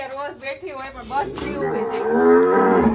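Cows at home moo loudly and close, one long drawn-out low call swelling toward the end after a person speaks briefly over the start.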